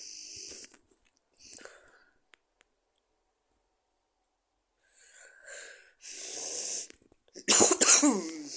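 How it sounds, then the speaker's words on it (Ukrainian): A person who is ill coughs harshly near the end after quiet breathing and faint clicks, with a few scattered noises and long silences before. "Не зважайте, що я кашляю, бо я захворів."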